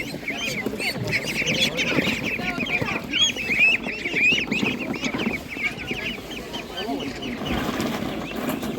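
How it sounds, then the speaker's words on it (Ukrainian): Chickens cluck steadily in a busy poultry market, with other fowl such as ducks or geese calling in the mix and a voice talking faintly underneath. "дивіться, які гарні є курочки"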